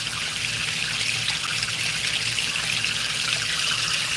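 Water rushes through a gold prospecting sluice box, a steady bright trickling and splashing flow heard close by and unbroken.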